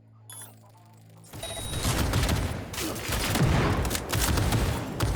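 A gun fires inside a video game played on Very Hard: after a quiet opening with faint game music, rapid bursts of shots break out and continue loud and sustained, with dense overlapping reports.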